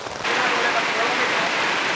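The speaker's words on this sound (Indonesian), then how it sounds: "Hujan deres guys" Heavy rain pours down on a durian orchard, a dense, steady hiss that sets in abruptly and then holds loud and unbroken, close by.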